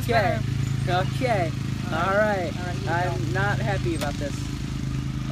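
A lawn mower engine drones steadily in the background throughout while people talk over it close by during a Bean Boozled jelly bean challenge.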